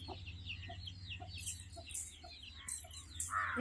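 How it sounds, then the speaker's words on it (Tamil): Roosters squawk and cluck in agitated bursts over a low steady hum, with sharp scuffling noises and a louder screech at the end. "மூணுமே சண்டை கட்டுது இதில் எத்தனை சேவல் இருக்கும் தெரியலையே"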